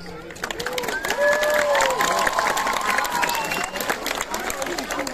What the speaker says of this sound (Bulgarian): Аплодисменти за отбора по футбол на Крумовград.